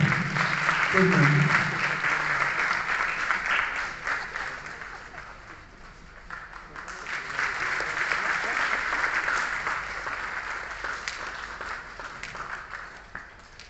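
Loud, sustained applause from a gathered audience at a retirement function at a thermal power plant, welcoming an honoured guest as a bouquet is presented; the clapping swells, dips briefly and rises again, with a voice faintly audible early on.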